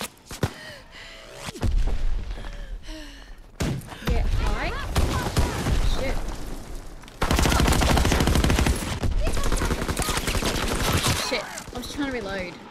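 Bursts of gunfire from the World War II shooter game Call of Duty: WWII, loud rapid volleys and heavy booms in several stretches, with voices talking over parts of the action.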